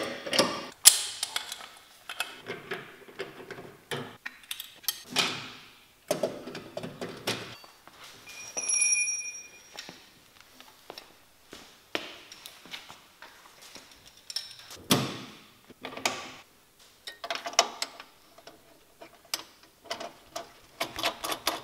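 Spotlights being bolted back onto an Alfa Romeo Giulia Ti, with close, intermittent ratcheting and tool clicks, metallic knocks and handling noises coming in short irregular bursts and pauses.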